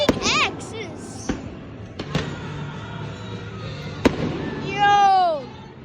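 Fireworks bursting over T-Mobile Park after a Mariners baseball game: sharp separate booms spaced through the clip, crackling streaks and a rising whistle near the end, with excited crowd voices talking and cheering throughout.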